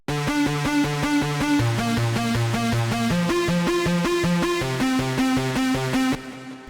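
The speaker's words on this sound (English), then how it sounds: "So that's the bass line. It is a preset in Nexus." A synth bass line from a Nexus preset repeating single notes that jump between low and high octaves in a steady, driving rhythm, playing alone before cutting off.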